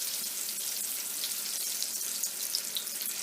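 Breaded mozzarella sticks fry in hot oil with a steady, dense sizzle and fine crackle that holds at an even level throughout, with no talking over it.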